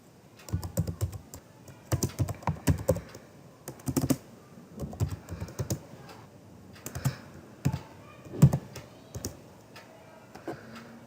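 Typing on a computer keyboard while writing BASIC256 program code, heard as a close, steady stream of clicky keystrokes in irregular bursts with short pauses and no talking.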